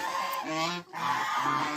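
Geese honking in a loose series of nasal calls, fairly close, with a short pause midway before the honking resumes.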